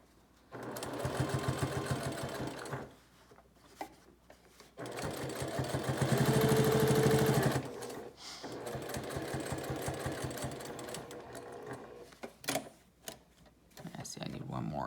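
A sewing machine stitching through a thick, bulky fabric bowl cozy in close bursts of rapid mechanical chatter, stopping and starting between stretches of someone talking.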